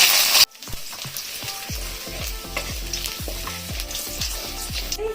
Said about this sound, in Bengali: ওই তেলের মধ্যেই কালো জিরে ফোড়ন দিয়ে দেবো এবারে দিয়ে দেবো আদা কুচি